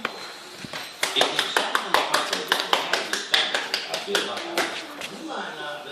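Hands clap steadily for a baby, a quick run of about twenty crisp, close claps in an even rhythm with faint voices behind.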